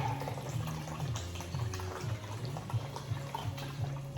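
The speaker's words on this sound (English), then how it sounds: "I'm going to add another half of this chicken broth, 32 ounces" Chicken broth pours into a pot of Creole gumbo, a soft, continuous liquid trickle and splash that stays faint and steady throughout, with a low hum beneath.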